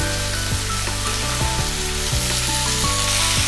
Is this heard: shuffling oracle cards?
no